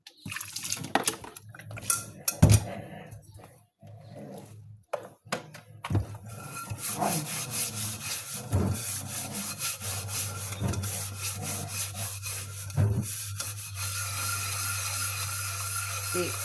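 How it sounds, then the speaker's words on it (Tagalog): A cooking pot is scrubbed with charcoal ash, giving repeated rough rubbing and scraping strokes, close and fairly loud, with occasional clanks of metal and water sounds, under a steady low hum and no talk. "Limpyo ang kaldero."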